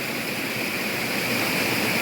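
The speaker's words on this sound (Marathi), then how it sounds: "ह्या दगडांच्या खालून जे छोटे छोटे झरे आहेत ते वाहत आहेत आणि या नदीला भेटत आहेत" Small streams in a Konkan village during the monsoon seep out from under stones and run into a river, making a steady, unbroken watery rush that is close and loud with no voices over it.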